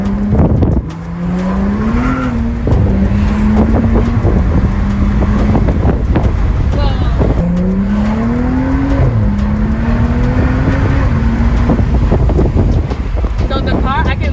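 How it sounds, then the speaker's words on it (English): A BMW F30 335i fitted with an aFe intake accelerates on the road, its turbocharged engine droning loudly while the pitch climbs and falls through gear changes, with turbo spooling audible over heavy wind noise. "You can hear that turbo spooling more, so the sound is amazing."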